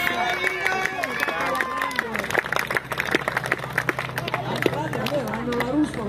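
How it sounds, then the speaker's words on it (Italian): An audience at the Veglio 4x4 2023 off-road event gives a lively round of applause for Mino and the staff, dense sharp claps and crowd murmur under someone speaking. "facciamo anche un bel applauso a Mino e a tutto lo staff"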